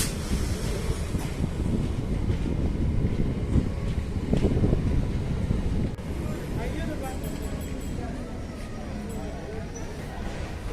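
A Brahmavart-Kanpur special passenger train pulls out of Kalyanpur station with a continuous rumble and wind buffeting, a brief louder surge near the middle, and faint squeals later, heard from on board.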